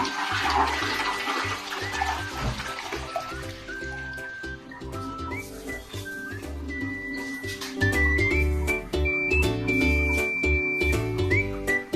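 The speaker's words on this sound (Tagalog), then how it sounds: "So atin na pong i-flush." A toilet bowl flushes close by, water rushing and gurgling, then a long whistling hiss as the tank refills, with trickling underneath that grows louder near the end.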